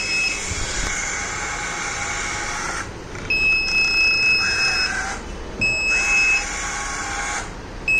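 Buzzer alarm on an Arduino UNO obstacle-detection robot with an ultrasonic sensor and emergency braking: repeated high, piercing beeps in long pulses with short pauses between, sounding over a background hiss.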